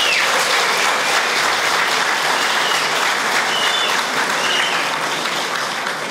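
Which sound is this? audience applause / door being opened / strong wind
audience applause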